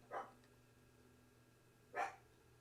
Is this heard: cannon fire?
no